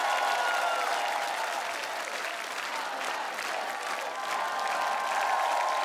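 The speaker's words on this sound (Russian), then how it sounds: "Вся сотня аплодирует тебе." A hundred-strong studio audience on a Russian TV singing show finale applauds in a thick, even wash of clapping that holds at a steady level for several seconds, with a faint edge of cheering mixed in.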